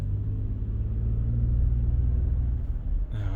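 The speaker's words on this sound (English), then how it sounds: "I'm not sure I like how the engine sounds." The V6 engine of a 2020 Toyota Sienna runs during a test drive, heard from inside as a steady low rumble and hum, constant and moderately loud, with a brief shift near the end.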